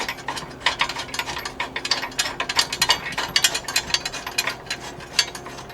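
A ratchet clicks steadily as a 10.9 high-grade fastener bolt is snugged down while fitting a winch to a 5th-gen RAM 3500, a fast, close run of sharp pawl ticks that keeps going for several seconds with no one talking.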